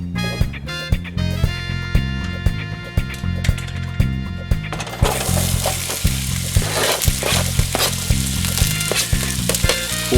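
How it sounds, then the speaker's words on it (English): Zucchini sizzles steadily in hot olive oil in a pan over medium-high heat, close and continuous, with rhythmic tapping over the frying. "in a pan we're going to heat it up over medium-high heat. Some olive oil. Cook the zucchini."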